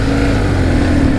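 A BMW R1150GS motorcycle with a shaft drive is ridden on the road, its engine giving a steady, loud drone mixed with rushing wind throughout, with no pauses.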